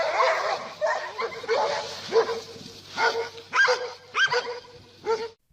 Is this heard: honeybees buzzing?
no